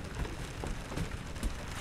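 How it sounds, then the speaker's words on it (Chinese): Rain falls steadily on a boat with an opening and closing canopy, a soft continuous patter with scattered louder drops close by and no voices. "哦，下雨，下雨，下雨哦！"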